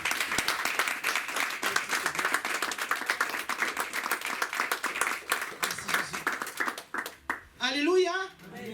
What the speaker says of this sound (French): Est-ce que tu peux acclamer le Seigneur pour la parole?